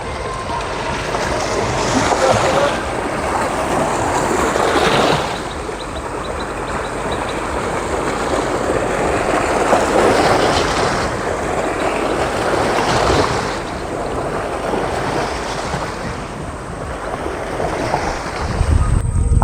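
A boat comes in to the shore on a cloudy riverbank, with continuous broadband engine and water rumble that swells and fades in long waves and no talking.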